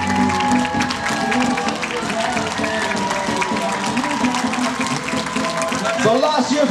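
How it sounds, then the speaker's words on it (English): A roadside crowd claps and cheers steadily for a runner nearing the finish line of the Nenagh Classic road race, a continuous wash of applause with an announcer's amplified voice talking over it. "give him a big cheer"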